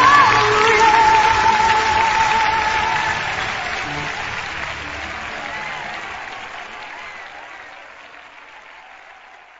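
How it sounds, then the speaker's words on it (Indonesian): A church congregation at a Sunday service applauds and cheers loudly in a sustained, dense wave of clapping with crowd voices, starting strong and slowly fading over about ten seconds. "Beri sorak-sorai untuk Tuhan Yesus."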